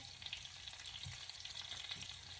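Brussels sprouts frying in a pan, a dense continuous close sizzle with faint crackles and no voices.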